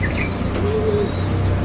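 Female homing pigeon cooing, a soft low coo swelling mid-clip over steady close background hum, with faint chirps from other birds.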